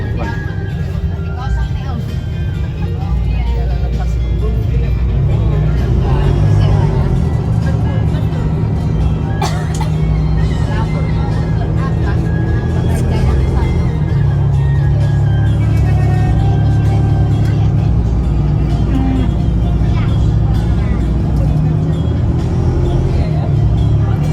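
Steady low rumble of a premium Volvo tronton bus engine with automatic transmission idling and running at a terminal, loud and continuous, with occasional voices over it.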